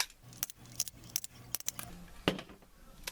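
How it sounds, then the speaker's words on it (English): A stapler punches through duct tape along a zipper, giving a series of sharp metallic clacks spaced at a steady rhythm, close and fairly quiet with no talking. "So go ahead and staple all the way down that."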